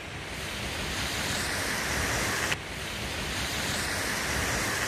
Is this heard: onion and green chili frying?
no